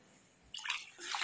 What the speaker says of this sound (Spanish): aquí ya le voy a poner agua